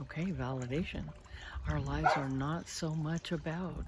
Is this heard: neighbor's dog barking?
yes